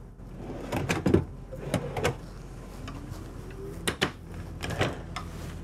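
Several short sliding knocks and clunks of drawers being pulled open and pushed shut in a Newmar Supreme Aire 4061 motorhome kitchen, spaced irregularly in a quiet room.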